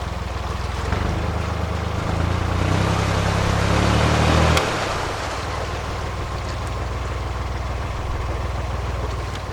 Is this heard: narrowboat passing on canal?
yes